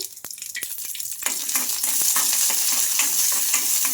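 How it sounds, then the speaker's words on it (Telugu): Green chillies, ginger and garlic frying in oil in a kadai: a few sharp spatula clicks and pops, then a steady loud close sizzle with stirring scrapes, no talking. "మనకు మిర్చి బాగా ఫ్రై అయిపోవాలి"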